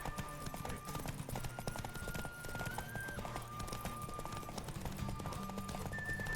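Horse hooves clip-clop at a run in The Witcher 3, a steady rhythmic beat under game music and occasional tones, with a brief whinny possible.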